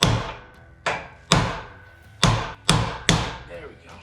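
Six sharp metal-on-metal hammer strikes, irregularly spaced, ring out close by as a 20 mm impact socket is driven against a rust-frozen U-joint clip on the front axle of a 2004 Dodge 3500.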